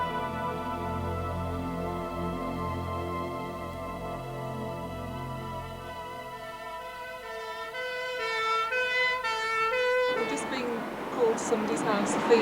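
An ambulance siren wails on a call to a severe asthma attack in Birmingham, its rising and falling tones sustained throughout, growing louder near the end as traffic noise and commotion build.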